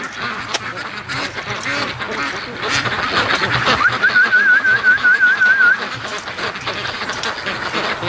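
Ducks quack repeatedly over steady rain-like background noise, with a short whistle-like tone midway through.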